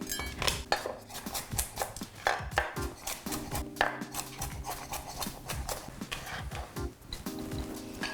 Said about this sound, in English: I'm going to mash up some garlic the old-fashioned way with my knife